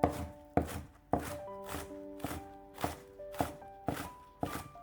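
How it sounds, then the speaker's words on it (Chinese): A knife chops a bunch of scallions into small pieces on a cutting board, with about nine sharp, evenly spaced chops close by. Faint steady tones sit underneath and no one speaks. "下面准备一把小葱，给它切成葱花"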